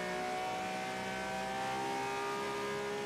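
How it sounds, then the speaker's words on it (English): Porsche race car engine at Le Mans, heard on board as a sustained steady drone with a fairly even pitch over about three seconds, moderately loud and alone without talk. "behind the Porsche as we ride on board with the Porsche"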